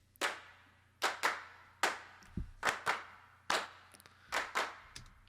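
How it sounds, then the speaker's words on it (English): Rhythmic hand claps from a studio music mix, sharp bright hits in a repeating pattern of single and paired strikes over a low steady tone, with no talking. "I've been obsessed with this clap pattern ever since"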